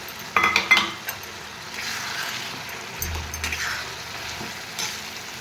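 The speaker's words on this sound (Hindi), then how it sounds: "टमाटर पियाज ये हल्का भाजी हो गला।" Onion and tomato frying in a pan for chicken gravy, a steady close sizzle with clinks and scrapes of a utensil stirring against the pan, and no voices.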